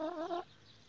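Transylvanian naked neck hen of a Romanian breed giving a short drawn-out cluck, close and clear, then quiet.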